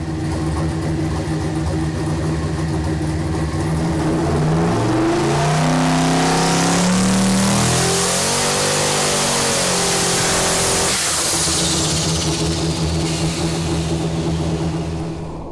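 A turbocharged 5.3 LS engine is pushed on 32 psi of boost and revs up from a loud, close idle to a screaming peak with rising turbo whine, then drops back to a rough idle.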